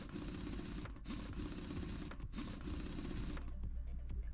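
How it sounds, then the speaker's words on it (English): In Car Mechanic Simulator 2018, a tire is bolted on with a continuous mechanical whirring drone that holds steady for several seconds before shifting and easing off near the end. "Now we can bolt on the tire."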